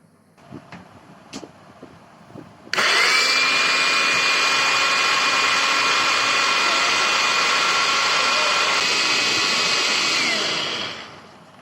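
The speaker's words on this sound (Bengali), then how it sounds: "চিনি দিয়ে আমি আবার ব্লেন্ড করে নিব।" Kitchen blender whirring through melon juice with sugar, starting abruptly after a few light knocks and running as a loud, steady motor drone for about eight seconds before winding down.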